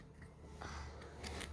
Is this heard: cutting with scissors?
yes